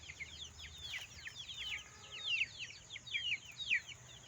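Month-old chicks cheep and cluck in quick, high chirping bursts, a small flock close by but fairly faint, over low background noise.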